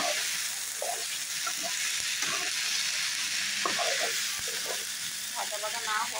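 Yardlong beans with potato, onion and tomato frying in a pan, an even close sizzle with occasional stirring knocks, while a voice talks intermittently over it.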